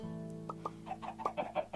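Repeated short clucks from a chicken in modded Minecraft, a few sparse calls at first then a busier burst of clucking, close up and with no talk.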